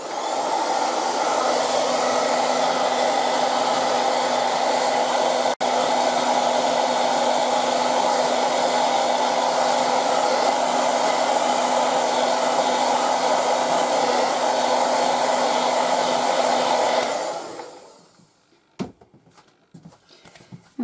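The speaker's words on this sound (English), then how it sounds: "Again with the hairdryer." A hairdryer blows steadily and loudly over wet watercolour paper for about seventeen seconds, then switches off, leaving a few faint clicks and handling sounds.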